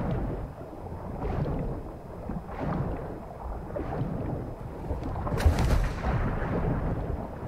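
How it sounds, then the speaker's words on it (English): Distant gunfire in the video game Warzone thumps repeatedly with booming, rumbling echoes, one sharper crack standing out, over a steady low background rumble. "Oh god, I hear gunshots."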